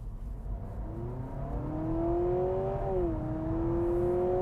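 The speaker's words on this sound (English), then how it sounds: "let's hear what it sounds like. From the inside in Sport mode" A 2025 Honda Civic Hybrid hatchback's engine in Sport mode hums steadily from inside the cabin, its tone climbing smoothly as it revs up, dipping briefly, then holding a higher whine.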